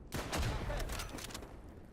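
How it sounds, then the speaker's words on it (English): Mortar fire in the WWII shooter Easy Red 2 on a southern France map: a loud, booming blast opens the clip, followed by a rumbling, crackling tail that fades slowly over two seconds. "we're apparently taking fire from the mortar again?"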